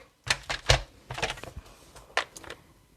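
Paper text being cut out for a handmade Stampin' Up card: a quick series of sharp, crisp clicks and snips in irregular bursts, close and moderately loud.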